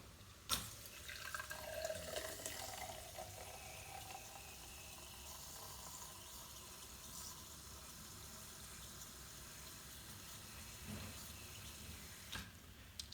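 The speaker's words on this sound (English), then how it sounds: "pour one more full drink." Steady rush of soft drink pouring from a bar valve dispenser tap, continuous and fairly close, with a few clinks near the start and end.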